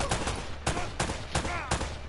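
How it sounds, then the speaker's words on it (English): Gunfire in Uncharted: Drake's Fortune, a string of about five loud, sharp shots spaced roughly a third of a second apart, close and dominant with no talking. "Shooting at air."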